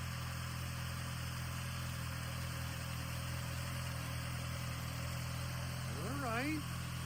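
A MOPAR car engine idles steadily with the AC off, a continuous low hum with faint vibration running through the whole stretch, joined near the end by a brief rising whistle or chirp.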